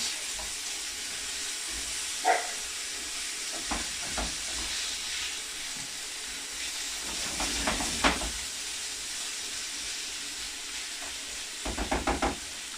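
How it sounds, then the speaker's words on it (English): Water boils in a pot with a steady hiss and scattered bubbling pops, a few louder bursts rising near the end. "I think that sounds like yes, it's boiling"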